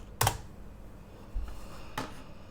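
A few separate key presses on a computer keyboard while typing a short terminal command on Ubuntu Linux: a sharp click, a duller tap and another click, spaced apart in a quiet room.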